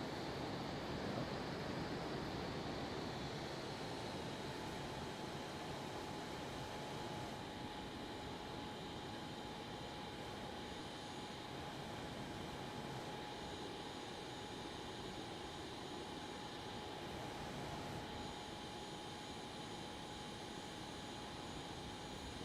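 Steady, droning engine roar of an airliner on approach to landing in Microsoft Flight Simulator 2020, a continuous moderate hum with a faint tonal whine throughout and no voices.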